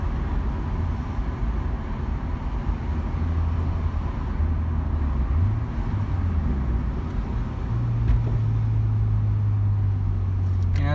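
Nissan Skyline R34 GT-T engine held at the top end of fifth gear, a steady loud in-cabin drone with a rising tonal whine near the end, no talk.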